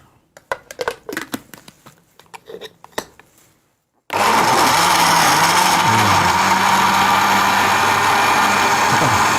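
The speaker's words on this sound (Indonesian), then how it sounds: "Kan kita blender dulu ya" A kitchen blender starts abruptly after a few seconds of clattering handling noises, then roars loudly and steadily, its motor pitch dipping slightly as it churns.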